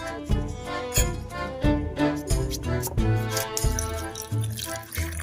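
Water poured into a glass jar holding kokum fruit, a series of splashy pours and drips with ringing glassy tones, close and fairly loud with no talking.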